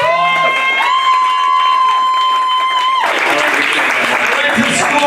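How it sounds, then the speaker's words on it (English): Stand-up comedy audience bursts into a big round of applause and cheering for the comedians, loud and dense, rising in after a held tone and carrying on to the end. "so give them another big round of applause."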